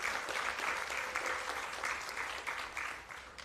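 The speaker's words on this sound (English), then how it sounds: "You can clap for that." An audience at a community celebration for a newly completed overpass claps together in a dense, steady burst of applause that holds strong, then starts thinning out toward the end.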